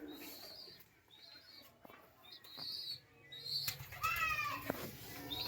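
Pigeons in a loft, soft cooing calls and bursts of wing flapping at close range, with some rustling and a louder flurry of wingbeats toward the end.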